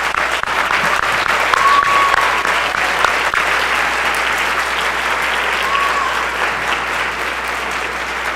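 Audience applause for students being recognized with plaques at a high school concert and symphonic band event, steady dense clapping across the whole stretch, loud and sustained without talk.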